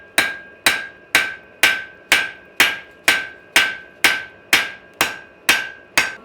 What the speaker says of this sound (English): when you're forging it and you're really wailing on it